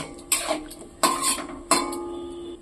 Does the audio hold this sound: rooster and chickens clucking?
no